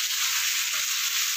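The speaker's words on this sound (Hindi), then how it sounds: "अब तो ये इसमें ही थोड़ी देर फ्राई होंगे" Onions fry in a pan with a steady, even sizzle that stays close and constant for the whole short stretch, with no talk.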